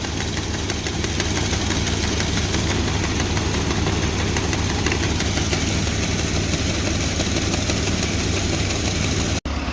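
A White 2-60 FWA tractor engine idles steadily after a cold start, a loud, continuous low rumble with a fast knocking pulse, running alone for nearly ten seconds before cutting off abruptly at the end.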